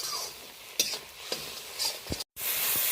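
Ground cumin, coriander, chili and turmeric being stirred and fried in a pan for a Bengali hilsa and eggplant dish: scattered spoon scrapes and soft sizzling, close and fairly quiet, with a brief silent gap near the end.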